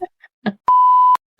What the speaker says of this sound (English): my phone just buzzed